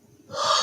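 A person yawns during a quiet morning oracle card reading, a short breathy intake that swells quickly from near silence into a loud, close, airy sigh.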